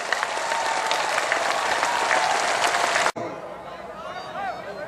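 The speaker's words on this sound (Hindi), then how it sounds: "एक बार आडवाणी जी का दोनों हाथ उठा के ताली बजा के ऐसा स्वागत करें कि आसमान गूंज जाए पूरा" A large crowd at a political rally greets Advani with loud, dense applause for about three seconds; it cuts off abruptly, leaving quieter crowd murmur and a voice over a PA.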